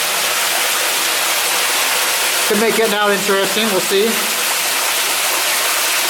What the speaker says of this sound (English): There's a good amount of water coming down now.